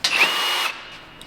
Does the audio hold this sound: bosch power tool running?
yes